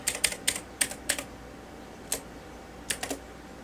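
Someone types an email address on a computer keyboard, a quick run of light key clicks followed by a few scattered taps, close and quiet, with no voices.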